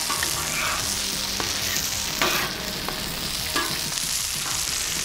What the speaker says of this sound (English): Got some good caramelization here on our sausage patties.